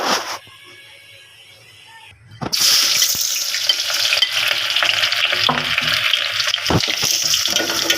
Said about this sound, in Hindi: ऑयल अच्छी तरीके से गर्म हो गया, तब इसमें मैंने प्याज ऐड कर दिए हैं।